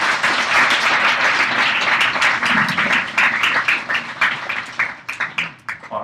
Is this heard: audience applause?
yes